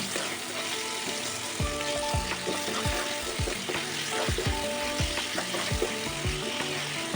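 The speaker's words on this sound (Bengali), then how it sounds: "পেঁয়াজটা কিন্তু ভালো করে ভেজে নিতে হবে" Chopped onions with a spoonful of salt fry in a little oil for a chicken curry, a continuous close sizzle broken by regular scraping stirs of a spatula against the pan.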